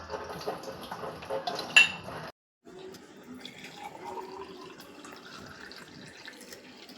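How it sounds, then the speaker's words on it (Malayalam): Running tap water splashes over a glass being rinsed at a sink after straining mango juice, with clinks of glassware in the first couple of seconds, then a brief gap and a steadier stream of flowing water. "ഗ്ലാസ് കഴുകിയെടുക്കാം"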